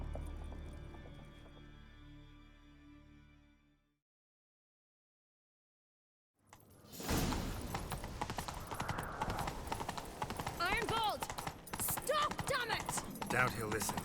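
Rhythmic clip-clop of a galloping horse in The Witcher 3: Wild Hunt, loud and continuous, with voices over it, coming in after a few seconds of fading music and silence.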